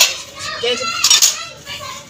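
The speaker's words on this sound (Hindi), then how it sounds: "आज छुट्टी है बच्चों को तो शोर बहुत ज्यादा है।" Children's voices ring out at play in a street outside a village home, a lively jumble of shouts and chatter that rises and falls at moderate distance alongside faint household clatter of dishes.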